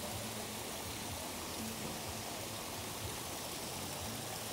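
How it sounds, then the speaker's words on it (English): Strong, gusty outdoor wind roars steadily and loudly, a constant broad rushing noise with no pauses and no voices. "It's just the wind is ridiculous."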